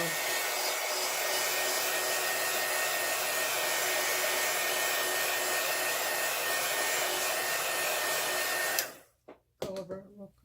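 A dryer blows a steady, loud, close rush of air onto an alcohol ink flower center for several seconds, then cuts off abruptly, followed by faint handling clicks.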